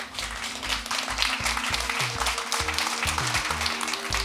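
An audience claps in thanks for Matt Slaybaugh, a moderate round of applause under a low droning background tone.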